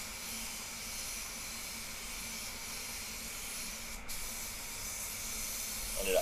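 An HVLP spray gun lays paint onto a BMW X1 in a spray booth, a continuous, even hiss of atomized spray that holds steady throughout and grows slightly louder at the end, with no talking.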